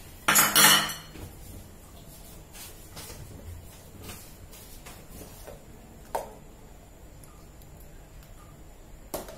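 Warm sago and young coconut dessert is ladled into cups; a loud metallic scrape of utensil against pot opens, followed by scattered light clinks and taps of the ladle on dishes, with no voices.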